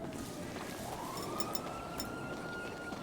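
A police siren in GTA 5 wails steadily at moderate distance, its sweeping tone rising slowly over a constant background of traffic and game ambience.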